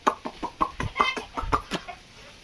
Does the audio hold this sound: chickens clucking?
yes